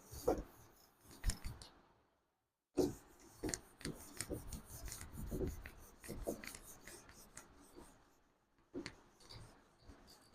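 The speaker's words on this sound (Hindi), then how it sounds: "तो चलिए मैं रब कर देता हूँ।" Writing rubbed off a classroom board during a chemistry lesson: scratchy, uneven rubbing strokes close up, with a brief silent gap, then more scraping and rubbing that trails off.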